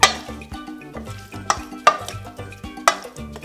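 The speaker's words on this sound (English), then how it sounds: "we're gonna toss that around. Get that lime juice and cilantro mixed in there real good." Raw shrimp tossed in a bowl with lime juice and cilantro, giving repeated clattering scrapes and clinks of a utensil against the bowl in uneven bursts, close and fairly loud, with no talking.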